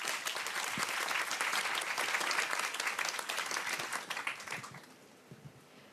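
An audience claps to welcome a young carpenter taking the stage at a talk event, dense and lively applause that holds steady and then fades out over the last second or two.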